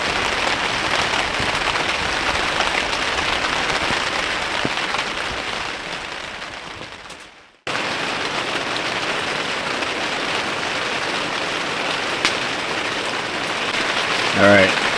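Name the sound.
heavy rain falling on a hot tent in the forest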